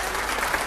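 Dense, steady applause from a large audience at the Sahitya Aaj Tak 2024 literary festival during a poetry and politics session, a brief wash of many hands clapping at once.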